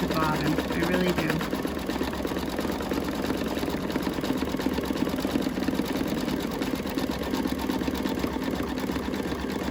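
An embroidery machine stitching a date book cover runs in a steady, loud mechanical whir with rapid needle beats throughout, the bobbin skipping stitches, with a voice briefly audible.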